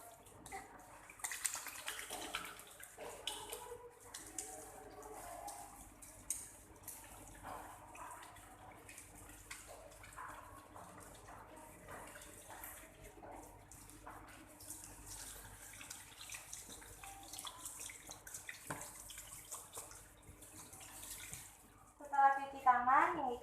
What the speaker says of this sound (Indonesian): langkah selanjutnya itu melakukan cuci tangan